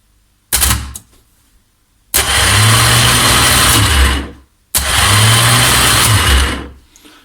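A Triumph Trident T160 starter motor spins up on the bench in three runs, a short burst then two longer loud whirring spells that cut off abruptly.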